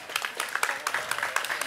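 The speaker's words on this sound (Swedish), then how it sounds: "Och en applåd tycker jag vi ska ge juryn" An audience at a chef competition heat in Halmstad gives the jury a short burst of applause, steady clapping with voices mixed in.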